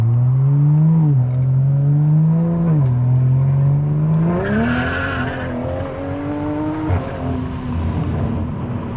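A Dodge Viper on new tires pulls hard, heard from inside the car: a loud, deep engine roar climbs in pitch, drops briefly at gear changes, then rises again with a faint tire whine.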